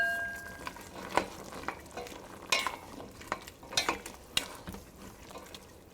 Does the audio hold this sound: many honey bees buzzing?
no